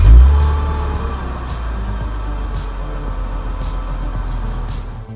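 A 2015 Lexus RC 350 AWD F Sport with a 3.5 liter V6 drives along, a steady low engine and road drone heard from inside the cabin, loud and continuous, with faint periodic ticks over the hum.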